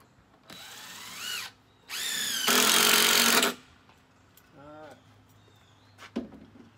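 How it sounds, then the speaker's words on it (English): A power drill drives screws into wooden DIY stall bars in several whirring bursts of rising pitch, the longest lasting over a second, up close, with quieter handling noises between them. "I'm gonna put screw in each one."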